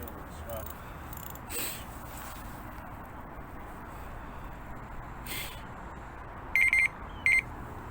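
Alarm in a video game beeping near the end, two short electronic bursts, the first a quick double pulse and the second a single beep, loud against a quiet hissy background.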